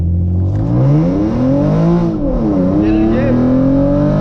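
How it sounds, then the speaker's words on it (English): A tuned, full-bolt-on Genesis Coupe 3.8 V6 launches hard, engine climbing steadily in pitch, then short-shifts into second with a dip and renewed rise, loud inside the cabin while someone speaks briefly. "I'm gonna launch it in drive mode, and then before it shifts, I'm just gonna short shift it into second gear"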